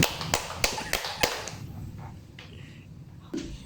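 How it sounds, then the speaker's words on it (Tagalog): Five sharp, evenly spaced group claps from children in a classroom, quick and crisp, then a short pause and a faint stray clap. "Ngayon bigyan natin ng 5 palakpak ang ating mga sarili"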